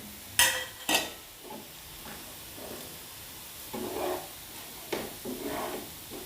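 A spoon stirs masala into browning onions in a pan for potato and carrot cutlets, giving a few sharp scraping clinks followed by soft intermittent stirring scrapes over a faint sizzle, close and fairly quiet.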